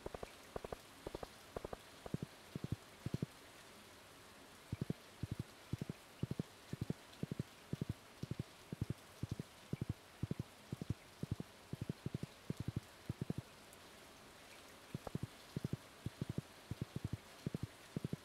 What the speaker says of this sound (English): Luckily, since it's raining, they're all inside.